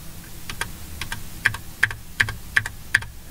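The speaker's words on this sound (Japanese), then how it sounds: "俺嫌なんだよね、キーボード音とか乗るの" A computer keyboard clatters with light, quick keystrokes, with several sharper key hits spaced evenly near the end, close and fairly quiet, alone without speech.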